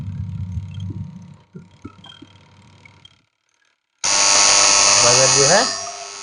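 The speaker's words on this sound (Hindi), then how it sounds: "बजर जो है वो 15 सेकेंड 20 सेकेंड इस तरह से बजेगा" A washing machine wash timer buzzer sounds, a loud, harsh continuous electric buzz that starts abruptly after quiet speech and a pause, holds for about a second and a half, then fades.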